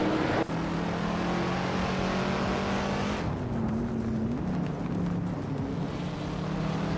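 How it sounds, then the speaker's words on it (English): A 1966 Porsche 906 race car in a Group 4 class of a racing video game: a steady, droning engine note that shifts pitch partway through, opening with a sharp click. "Everlasting Apex is driving a 1966 Porsche 906 in Group 4"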